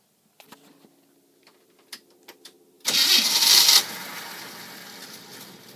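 A Jeep 258 engine fitted with Chevy throttle body injection catches with a sudden loud burst after a few faint clicks, then quickly drops to a softer fading run as it stalls.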